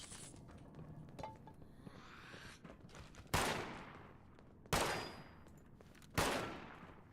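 Gunfire in Fallout 76: three sharp, loud shots spaced about a second and a half apart, each with a decaying echo, after quieter rustling and movement.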